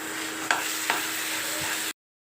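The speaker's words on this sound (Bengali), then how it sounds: "তো এইটাকে এখন আমার ভালো করে ভাজতে হবে আচারটা।" Olive pickle frying in mustard oil in a pan, a steady close sizzle with a couple of soft stirring knocks before the sound cuts off abruptly.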